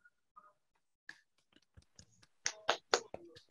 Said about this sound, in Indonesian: Beri tepuk tangan untuk Balkis dan Aska